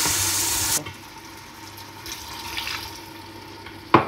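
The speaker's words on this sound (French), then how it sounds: "Je rajoute un peu d'eau." A little water goes into a pot of tomato and onions for Tunisian fish couscous: a brief rushing pour at the start, then a soft simmer and sizzle, with a sharp clink near the end.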